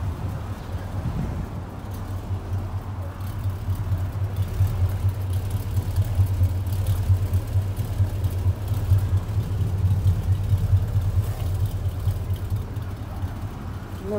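A 1957 Chevrolet Bel Air running, its exhaust pipes giving a steady deep idle rumble heard up close from behind the car, continuous and even.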